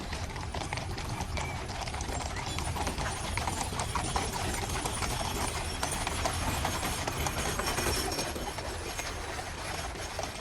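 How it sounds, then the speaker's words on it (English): Horses of the King's parade in Westminster clip-clop steadily along the route, their hooves ringing in a continuous rhythmic patter under dense crowd and street noise. "These are the horses making their way down."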